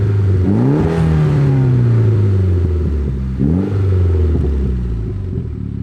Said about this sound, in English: He also has a Gretty exhaust, which sounds great.